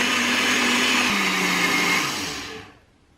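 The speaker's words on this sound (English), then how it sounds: "remember to remove your spoon before putting your blender back on again" A blender runs steadily while blending a thick low-carb green smoothie, its motor pitch dropping partway through, then winds down and falls quiet near the end.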